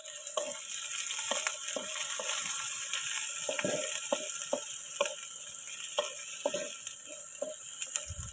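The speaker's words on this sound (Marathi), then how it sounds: "थोडासा कांदा हलवून घ्यायचा अगोदर." Onion fries in a pan for kanda pohe, with a constant sizzle close by and repeated sharp scrapes and clinks as a spoon stirs it.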